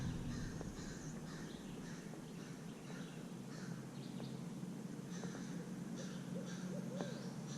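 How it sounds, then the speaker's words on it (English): An owl hoots repeatedly in the distance beside a river in a quiet outdoor setting during a kayak paddle, its soft calls repeating over steady broadband background noise, with no talking. "There's a hootie owl."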